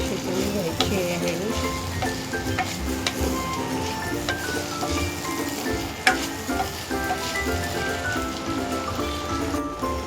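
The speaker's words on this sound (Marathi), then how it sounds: "आपलं लसूण टाकून 5 मिनटं परतून झालं आहे आपलं कांदा लसूण." Onion and garlic sizzle steadily in a hot pan while being stirred and sautéed, a close continuous crackle with occasional scrapes and clinks of the spoon, a faint voice in the background.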